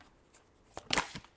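A brief riffle of tarot cards being shuffled, a soft flutter building to one quick louder burst, close and quiet with no talk.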